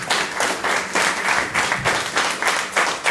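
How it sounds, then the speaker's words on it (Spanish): Audience at a live concert breaks into steady, dense applause, a crowd of hands clapping loudly and continuously throughout with no voices over it. "Te pido un fuerte aplauso para mi madre."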